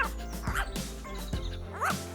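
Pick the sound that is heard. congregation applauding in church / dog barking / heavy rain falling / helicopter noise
dog barking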